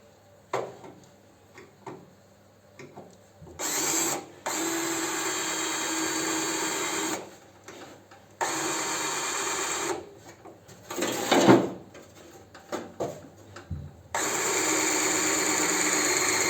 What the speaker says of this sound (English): we'll see if this drill's any sharper now